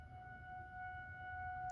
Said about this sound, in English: And you hear the tornado sirens like you're hearing.